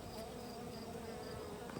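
Honeybees at an open beehive hum in a calm, steady, low drone that carries evenly throughout at a soft level.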